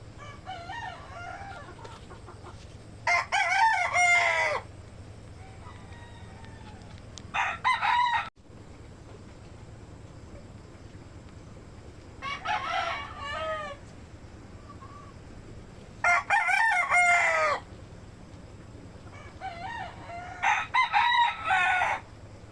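Chickens cluck and a rooster crows in bursts in a rainy backyard, with tethered birds sheltered under a roof; several loud crows come in distinct clusters over a steady low background hum.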